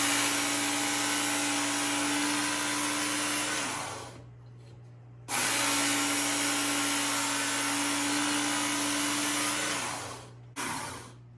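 A kitchen knife is ground against a power sharpening tool, which gives a loud, steady, close whir in two long passes, each trailing off before a short pause and restart.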